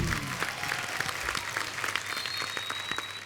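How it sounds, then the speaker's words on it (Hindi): Studio audience at a televised Hindi comedy show applauds with steady, dense clapping throughout, loud and sustained with no talking over it. "जोरदार तालियां गुरु और संजना के लिए।"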